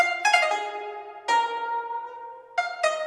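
A Solar Bends synth preset plays a two-note melody in a trap beat, with bright harmonic tones that slide in pitch and ring out between note attacks, heard alone and close.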